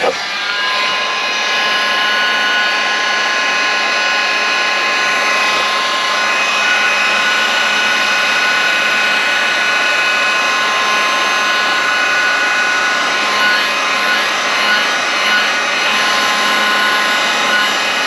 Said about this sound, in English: let's get this heat gun going